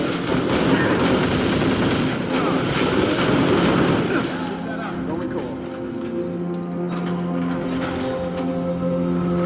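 Heavy gunfire in the video game Halo Reach, a dense rattle of rapid shots that is loudest in the first few seconds and then fades into a rumbling battle background with game voices over it.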